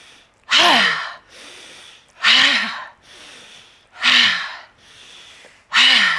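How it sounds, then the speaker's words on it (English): Forceful breaths drawn in sharply during a breathing exercise, four strong rhythmic inhales at even intervals, each followed by a softer exhale, close and loud. "So breathing in."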